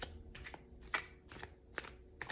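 Tarot cards being shuffled by hand in short, crisp riffling bursts, about five quick flutters in a row, close and fairly quiet with no talking.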